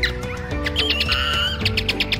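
Weaver bird chicks cry out in a series of high, thin chirps and tweets, repeated rapidly and close, over a low background murmur.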